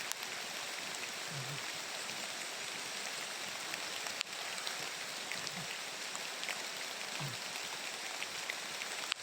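Steady rain pours down continuously, a dense even patter with a few faint low thumps, heard alone with no voices.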